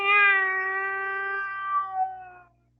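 A person imitates the call of the marang, a native cat of Negros, with one sustained, tonal meow-like wail that holds steady for about two seconds, wavers near the end, then fades out, heard alone without other talk.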